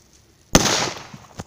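A single sharp, loud firecracker bang from a Mega-brand banger goes off outdoors, followed by a short decaying rumble and a faint second pop.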